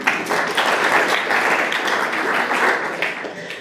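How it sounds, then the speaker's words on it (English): An audience at an environmental forum at SUNY Adirondack in Queensbury, New York, breaks into a steady round of applause, dense overlapping claps held at an even level throughout the few seconds. "why does everyone give themselves a round of applause?"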